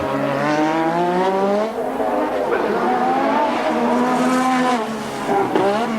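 Nigel Mansell's Formula One car weaving to heat its tyres during Australian Grand Prix qualifying, a loud sustained engine whine rising and falling in pitch, close and continuous, with a faint voice underneath.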